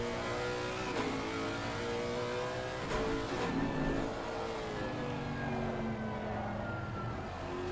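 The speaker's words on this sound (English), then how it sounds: "Always forget how loud that engine is before we switch to it." A GT3 race car engine in Assetto Corsa Competizione at the Hungaroring, a loud, gruff, continuous drone that rises and falls slightly in pitch as the car accelerates and lifts, heard close from the cockpit without any talking.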